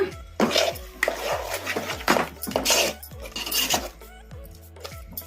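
Grated coconut fried in a pan for coconut sambar is stirred with a spoon, giving repeated scraping and metallic clinks against the pan in a steady rhythm, close and moderately loud, with no talking.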